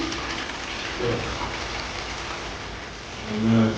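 A toilet flushes as water rushes and swirls steadily through the bowl, a close hissing wash that swells briefly near the end. One short word is spoken.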